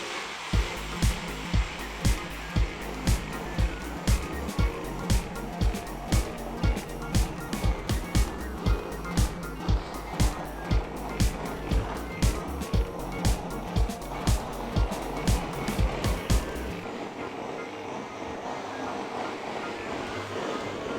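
A Rovus Nano steam mop runs at maximum steam, giving a steady hissing rush broken by a regular series of sharp clicking pulses that stop near the end, leaving a quieter hiss.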